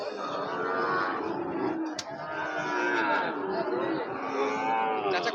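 Cattle at a border cattle market, including Jersey and Sahiwal cows and calves, lowing in long drawn-out moos that overlap almost continuously, close and loud, with faint crowd chatter behind.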